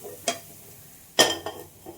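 Bitter gourd frying in a pan: a low, faint sizzle with a few sharp, close scrapes of stirring at irregular moments, one stronger than the rest.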